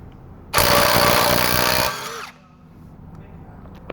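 An Einhell 18V compact cordless impact wrench with 1/2-inch drive hammers in one loud, close, rapid rattling burst of about a second and a half, then spins down and falls quiet.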